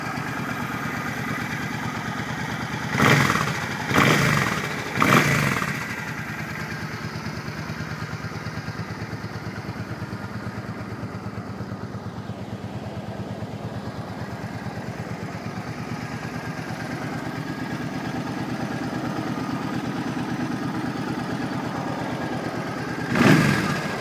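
A stock 2007 Suzuki Boulevard C50T cruiser motorcycle idles smoothly and steadily at close range for the whole stretch, with a few short, louder bursts near the start and one at the end.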